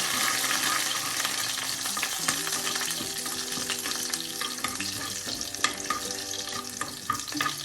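Shallots and curry leaves sizzle steadily in hot coconut oil for a Kerala vaal beans thoran, with scraping stirs and occasional clicks of a utensil against the pan, close and continuous throughout.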